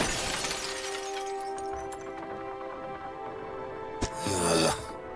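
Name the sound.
mirror face shattering in video game Dredge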